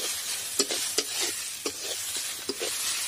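Onion frying with ginger garlic paste for a chicken dish, a steady close sizzle punctuated by several sharp spatula strokes against the pan.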